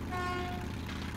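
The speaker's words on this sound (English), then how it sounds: "Press the X button to honk the horn." A vehicle horn honks in the video game Metro 2033, one steady tonal blast that fades after about half a second over a loud, rumbling engine drone.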